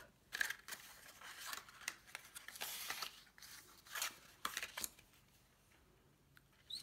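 Adhesive tape, Tear and Tape double-sided crafting tape, being torn and pulled from its strip in a few short, crisp rips and crackles, close and fairly quiet, with no talking.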